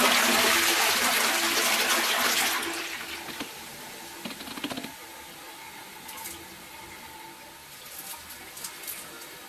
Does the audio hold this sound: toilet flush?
yes